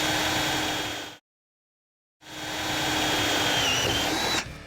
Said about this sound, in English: Step drill bits are designed for drilling through sheet metal and ensure a perfectly round hole